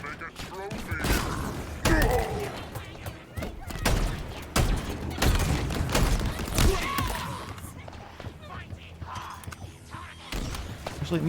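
Halo Infinite combat fills the air with repeated sharp gunshots, bursts of fire and heavy thuds of explosions, close and irregular, with someone talking over parts of it.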